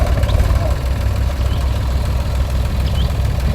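A tractor engine idles close by, a loud, steady low rumble with a continuous knocking throb. A voice speaks faintly underneath it.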